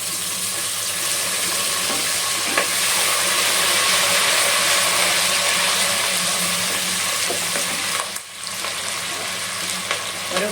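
Curry leaves frying in hot oil for an anchovy fish curry, a loud continuous crackling sizzle with scattered pops, one brief dip near the end, no talking.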